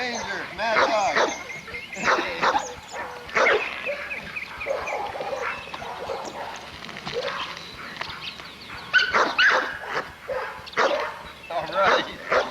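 An American pit bull terrier barks repeatedly in loud, close bursts with yips and whimpers in between, while a person talks over the commotion.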